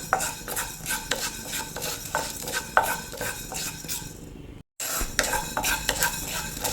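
Fenugreek seeds dry-roast in a pan for homemade Kerala rasam powder while a spoon scrapes and stirs them in quick, repeated strokes over a soft crackle. There is a brief silent gap partway through.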